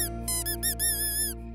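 A cartoon toy character from Doc McStuffins squeaks in a quick series of high, bright rubbery chirps and one longer wavering squeak over a steady low background tone.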